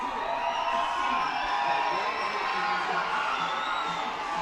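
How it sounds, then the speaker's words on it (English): A baseball crowd at a minor league ballpark during a doubleheader cheers and roars in a steady, dense wash of voices, fairly distant and continuous with no single voice standing out. "As the crowd is energetic here at the ballpark"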